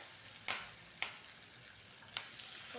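Mustard seeds and cumin sizzle in hot oil in a home kitchen pan, a steady frying hiss broken by a few sharp pops and crackles of bursting seeds.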